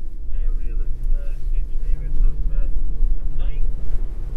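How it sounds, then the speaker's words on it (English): A 2021 Land Rover Defender 90 drives through deep water off-road, its engine droning loudly under a rushing wash of splashing and wind buffeting, while someone talks over it. "Water splashing up each side"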